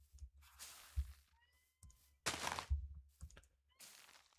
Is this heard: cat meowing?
yes